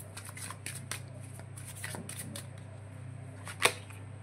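Tarot cards, including the Four of Pentacles, shuffled and drawn by hand, giving a run of soft papery flicks and slides with one sharper snap of a card near the end, over a steady low hum.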